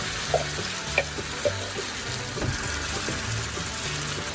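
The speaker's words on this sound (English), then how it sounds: "So you can see my onions are they've got brown. To this I'm adding tomato puree." Tomato puree added to browned onions in a hot pan, a steady sizzle with a few soft utensil taps near the start, continuous and close.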